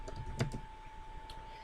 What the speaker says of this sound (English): I'm just typing in Red Grange signed to see what happens in the search box